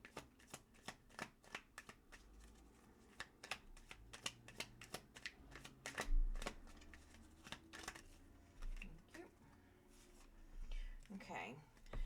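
Tarot cards riffled and snapped in repeated bursts of crisp papery slaps, close to the microphone, with soft speech murmured between the shuffles.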